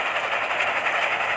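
A train rolling along in the Roblox game Dead Rails, a continuous loud rumbling hiss with faint rhythmic clatter, steady and close with no talk.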